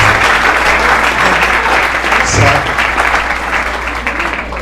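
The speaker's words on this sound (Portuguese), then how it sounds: "Vamos aplaudir o Senhor pela presença dele, do Léo, do Lucas." Sustained, loud applause from a church congregation during a service, a dense wash of clapping that carries on steadily and fades slightly toward the end.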